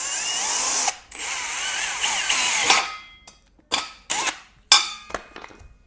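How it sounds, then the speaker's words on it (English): A power drill fitted with a 5/32 drill bit bores into the brace of a wall-mounted tire rack, running in one long whine and then several short bursts with pauses between them, loud and close. "And I'm gonna drill this with"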